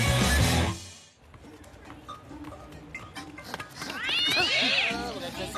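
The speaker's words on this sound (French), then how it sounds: "Ah, c'est le chat, il se bagarre encore." Cartoon cat fighting, with an opening loud burst, a quieter stretch of scuffling, then rising and falling yowls and caterwauls near the end.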